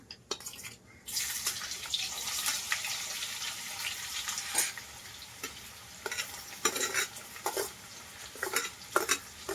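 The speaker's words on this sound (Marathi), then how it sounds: "कांदा चांगला परतून घेऊया लाल होऊपर्यंत" Onion with mustard seeds and curry leaves sizzles steadily in a hot pan, with intermittent scraping and stirring strokes of a spoon and occasional sharper clinks, close and moderately quiet.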